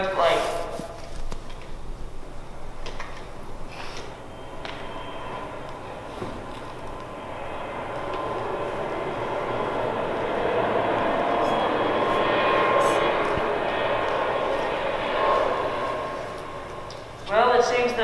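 Simulated airplane engine noise for a comedy skit about a troubled flight: a steady broadband roar that swells gradually, peaks near the end and then fades, with light shuffling in the background.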